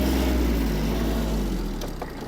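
A Kubota GB-15 Japanese mini tractor engine runs steadily in a higher gear range, a loud, continuous low drone close by with no voices.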